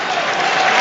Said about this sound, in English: the applause you could hear